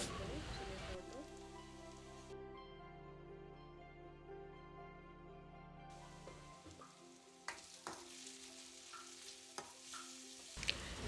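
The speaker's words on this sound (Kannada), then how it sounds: "ಸ್ಪೈಸಸ್ ಎಲ್ಲ ಹಾಕಿದ್ಮೇಲೆ ಒಂದು ತರ್ಟಿ ಸೆಕೆಂಡ್ಸ್ ಫ್ರೈ ಮಾಡಿಕೊಂಡ್ರೆ ಸಾಕು" Tomato fries with garam masala, chilli powder and coriander powder in a pan, a faint soft crackle that starts under a low steady hum and turns to scattered sizzling pops and ticks later on.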